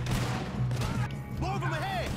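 Gunfire in Red Dead Redemption 2, a dense burst of shots and impacts over a low hum, with a voice speaking partway through.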